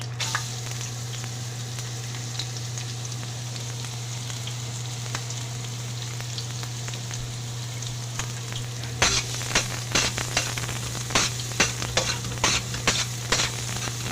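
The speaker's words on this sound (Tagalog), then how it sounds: "i-half fried natin tong carrots" Carrots half-frying in a pan for fried rice make a steady sizzle, joined in the second half by sharp, repeated scraping and stirring clicks; no one speaks.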